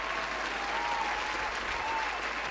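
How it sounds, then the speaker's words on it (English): Steady audience applause at a comedy podcast taping, sustained and fairly even throughout with no talk over it. "I'll wait for the applause to die down"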